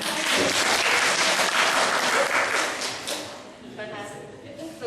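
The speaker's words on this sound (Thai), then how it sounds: "ปรบมือให้พี่เอเลยค่ะ" Audience applause breaks out at a Thai stage event, loud and dense for about three seconds, then fading while a voice speaks over the tail end.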